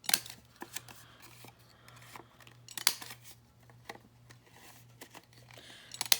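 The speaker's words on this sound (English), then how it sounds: "And I'm going to round these edges" Scissors or a corner punch snip the paper corners of a pink journal, giving irregular sharp cuts and rustling paper handling, close and fairly quiet, with no talking.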